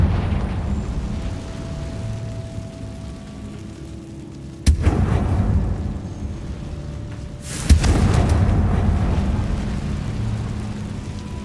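A Confringo fire spell bursts twice in Hogwarts Legacy, each a sharp, loud blast over a steady low rumble of game ambience, with no talk.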